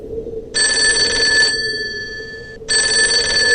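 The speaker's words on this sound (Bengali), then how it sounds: "ঠিক তখনই ফোনটা বেজে উঠলো" An electronic telephone bell rings loudly in bursts, a long ring, a brief pause, then another ring starting, with a low hum underneath.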